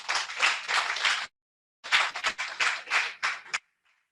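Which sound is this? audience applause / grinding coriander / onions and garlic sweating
audience applause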